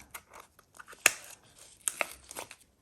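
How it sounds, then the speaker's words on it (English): Scissors snip and tear holes in a paper strip, giving sharp crisp cuts and rustling crinkles in an irregular sequence, close and clear against a quiet background. "Maybe tear a bit out. We can also use our scissors a little bit to help."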